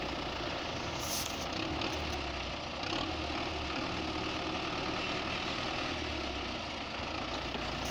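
A stuck-steering MTZ tractor's engine idles steadily with a low, continuous rumble, close and fairly quiet, with no talk over it.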